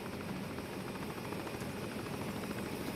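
A helicopter in the video game Arma 3, a constant whirring rotor and engine drone at a fairly even level, without speech.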